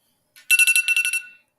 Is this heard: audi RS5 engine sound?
no